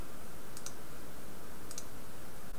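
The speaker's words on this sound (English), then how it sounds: "I'm going to select the file that I'd like to open and click the Open button." A computer mouse clicks twice, a short sharp click near the start and another about a second later, faint over a steady hiss of background noise.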